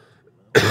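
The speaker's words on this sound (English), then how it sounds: "Sorry for all the coughing." A single harsh cough bursts in abruptly after near silence, loud and close, with a brief rough noisy tail during a Transformers trading card game match.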